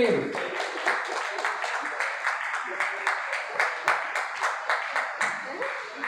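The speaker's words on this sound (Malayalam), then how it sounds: "എല്ലാവർക്കും നല്ലൊരു കയ്യടി." Rhythmic, steady clapping from an audience at a community immunity club gathering in Kerala, a run of evenly spaced claps sustained for several seconds at moderate volume.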